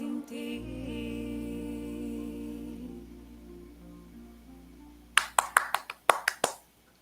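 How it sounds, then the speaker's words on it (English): A few sharp, close hand claps in an uneven burst of about eight, following a sustained musical tone that fades out during an interview show. "Wow, Applause."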